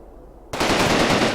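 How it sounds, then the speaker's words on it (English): Returning fire in the video game Combat Mission Rome to Victory erupts suddenly as a loud, sustained burst of machine-gun fire after a brief quiet lead-in. "Okay, there's fire coming back."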